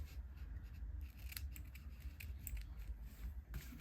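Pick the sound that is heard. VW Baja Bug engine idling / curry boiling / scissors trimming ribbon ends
scissors trimming ribbon ends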